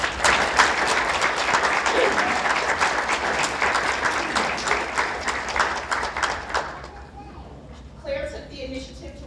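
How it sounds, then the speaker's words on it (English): An audience at a Board of Education business meeting breaks into a sustained round of dense clapping that fades out after several seconds. A few voices and faint talk follow in a quieter room. "So if you all can give a round of applause to Claire"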